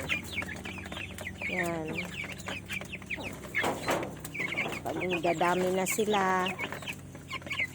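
Chickens cluck and squawk in a village coop at dusk, a string of close, uneven calls, while a person speaks briefly over them.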